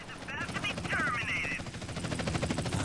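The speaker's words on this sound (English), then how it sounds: "These damn helicopters just won't leave me alone either." A video game helicopter beats with a rhythmic rotor chop throughout, mixed with game effects and a voice talking over it.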